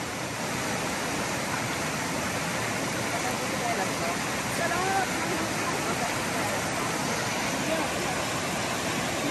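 Steady rushing of a shallow river at a family campsite, a dense continuous wash of flowing current, close and fairly loud with no pauses.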